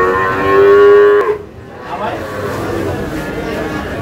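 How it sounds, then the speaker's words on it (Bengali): Shahiwal cattle at a Munshiganj cattle market: one loud, close moo holds for about a second, then gives way to background murmur and chatter of the busy market. "চললাম একটু দেখি গরুগুলা।"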